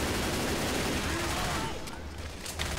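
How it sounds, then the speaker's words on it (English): Gunfire in Left 4 Dead 2 on Xbox One, aimed at a Spitter: dense, continuous shooting with steady loudness across the whole stretch, with a voice speaking over it. "Spitter! I start shooting at her."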